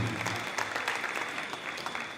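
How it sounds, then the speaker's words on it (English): A crowd at a 2023 powwow for the National Day of Truth and Reconciliation at Lakeland College gives the children a round of applause. It is a dense, steady clatter of many hands at moderate volume, with no talk over it. "Let's give these little people a round of applause"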